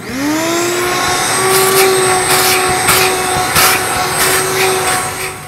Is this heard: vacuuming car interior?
yes